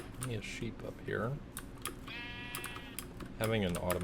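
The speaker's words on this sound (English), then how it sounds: "A sheep up here." Minecraft sheep bleat in wobbling, drawn-out calls, one clear bleat mid-clip, mixed with rapid computer keyboard typing and game sounds, with someone talking now and then.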